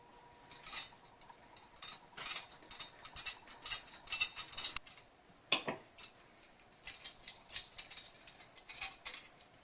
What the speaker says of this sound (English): Use diagonal snips to trim this part.